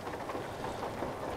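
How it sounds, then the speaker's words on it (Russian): Rain in the Euro Truck Simulator game, heard from inside a Ford Aeromax truck cab: a dense, steady hiss of falling rain at moderate volume with no break. "Так, включаем дождик. Пошел дождик."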